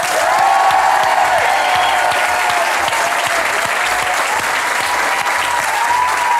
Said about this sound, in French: Merci d'applaudir chaleureusement Alexandra Lamy